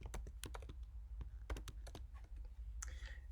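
Quiet, close typing on a computer keyboard, a quick irregular run of clicks and taps with short pauses, and no voices.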